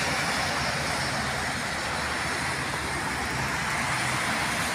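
Steady broadband road noise from highway traffic beside a mosque and a petrol station, a continuous rushing drone with no distinct passes, fairly close and filling the whole stretch.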